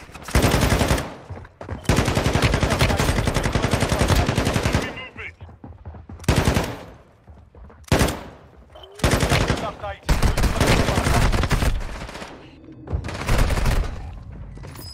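Automatic and rapid gunfire bursts from the mobile shooter Warzone Mobile in solo squads mode, loud and close, coming in several long sustained volleys separated by brief pauses with short single shots between.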